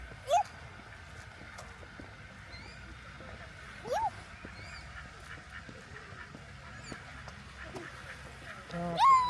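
Ducks quack and honk in short scattered calls against a steady outdoor background, with a louder burst of calls near the end.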